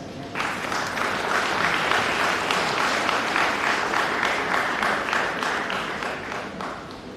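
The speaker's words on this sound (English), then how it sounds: "Please give her a round of applause." Sustained applause from an audience welcoming the First Lady at a formal event, dense and steady for several seconds, loud and close with no speech over it, easing slightly toward the end.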